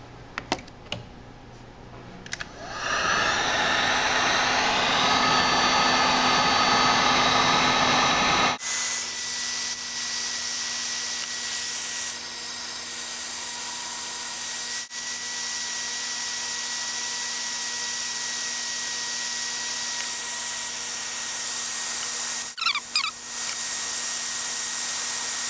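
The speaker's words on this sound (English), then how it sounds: "I'll put a heat gun on it and we'll see what temperature it opens at." Heat gun warming an engine cooling thermostat to find its opening temperature; a quieter fan hiss for several seconds, then a louder steady blowing roar with a faint tonal whine that runs on to the end, alone without talk.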